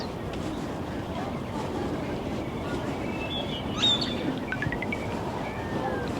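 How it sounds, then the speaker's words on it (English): Faint bird chirps and short tweets scattered over a steady outdoor rumble in a park in Las Vegas, with distant activity in the background. "Birds chirping."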